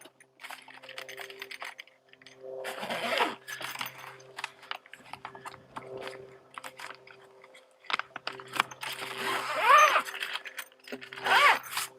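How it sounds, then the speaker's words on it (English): Zipper being pulled closed around the protective cover of an ICECO GO20 dual-zone portable fridge, several short rasping zips with handling rustle in between, close and loud, no talk. "go ahead and zip it all the way up"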